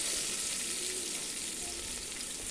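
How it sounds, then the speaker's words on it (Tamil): Chopped onions sautéing in a pan for a vegetable white kurma, giving a steady, moderately quiet sizzle with no talking. "நம்ம கட் பண்ணி எடுத்து வச்சுருக்கிற வெங்காயத்தை நம்ம ஒன்றா சேர்த்துக்கலாம் வெங்காயம் ஓரளவுக்கு வதங்கி வரட்டும்"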